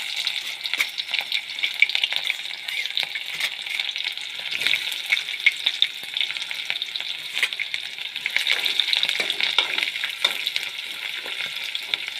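Cumin and onions frying in hot oil for masala chitranna give a steady, dense sizzle with crackling pops all through, fairly close and loud. Occasional stirring clicks sit under the frying, and no one speaks.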